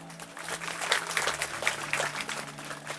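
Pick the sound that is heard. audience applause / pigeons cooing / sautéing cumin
audience applause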